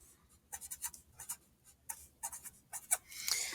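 Pencil on paper scratches out a name in short bursts of strokes, close and fairly faint, in a quiet classroom setting with no talking.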